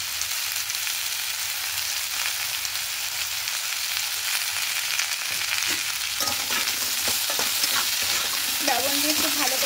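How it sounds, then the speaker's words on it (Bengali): Potato pieces fry in hot oil in a pan for white aloo posto, a steady close sizzle with the scrape and clatter of stirring running through it, and no voices. "হালকা নাড়াচাড়া করে ভেজে নিয়েছি।"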